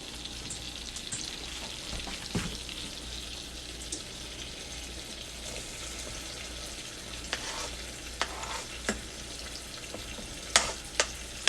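Onions added to a hot pan for a stew alongside fried pork chops sizzle in a soft, steady background hiss, with occasional clinks and stirring taps.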